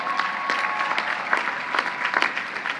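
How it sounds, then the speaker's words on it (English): A graduation audience at the Queens College commencement applauds steadily, a dense wash of clapping from a large crowd with a few sharper claps standing out, continuous and fairly loud throughout. "you can clap to that"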